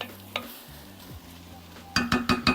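A squash and parsnip soup is stirred in a pot, with a faint simmer followed by a rapid run of clinks and scrapes from the spoon against the pot near the end.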